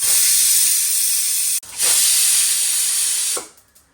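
Mustard seeds hitting hot oil for Gujarati kadhi: a loud, steady hiss of sizzling that cuts off briefly, surges back just as strongly, then fades away near the end.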